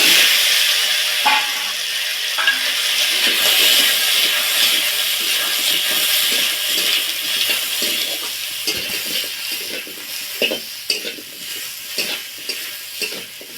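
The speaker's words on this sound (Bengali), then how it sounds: "আমগুলোকে একটু ভাজা ভাজা করে নিয়েছি" Chopped mango pieces frying in oil in a wok after a tempering of mustard seeds, a bay leaf and a dried chilli, giving a steady close sizzle and hiss with stirring scrapes throughout and no talk.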